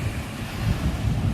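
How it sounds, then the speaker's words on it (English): Calm ocean waves wash steadily onto a beach, a soft continuous rushing surf mixed with wind noise buffeting the microphone, with no one talking. "It's not much of like the surfing waves, but calming waves"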